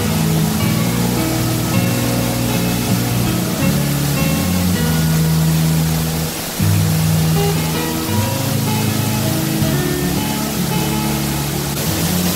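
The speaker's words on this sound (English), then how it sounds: "I think we found our third waterfall." A loud, steady roar of rushing water from a waterfall in Boquete, Panama fills the whole clip, a dense constant wash of falling water close by.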